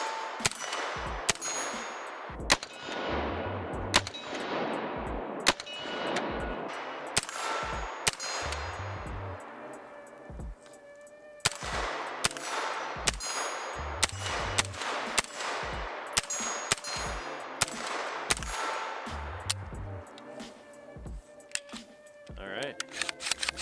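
A gun fires repeatedly, with sharp, loud cracks about every second or so, each followed by a ringing, metallic tail, and a short pause partway through.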